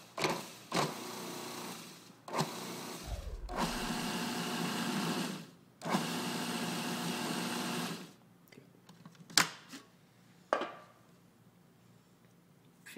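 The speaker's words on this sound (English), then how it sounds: "1 tablespoon at a time, and slowly pulsing until our dough comes together and forms a ball." A food processor pulses pie dough as very cold water goes in a tablespoon at a time: a few short whirring bursts, then longer motor runs separated by pauses, ending in quiet with a couple of light knocks.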